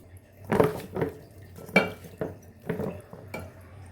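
Fish pieces being mixed by hand with coriander powder, pepper powder, chilli powder, turmeric, salt and a spoon of oil in a bowl at home, giving several close, separate clinks and scrapes against the bowl with short pauses between.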